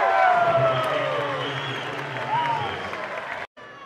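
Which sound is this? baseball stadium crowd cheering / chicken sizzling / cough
baseball stadium crowd cheering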